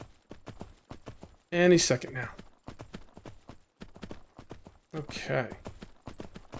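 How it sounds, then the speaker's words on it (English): Steady, soft clip-clop of a horse's hooves while a horse is tamed in the game Myth of Empires, with someone talking briefly over the even footfalls. "right now I am steering the horse, by the way."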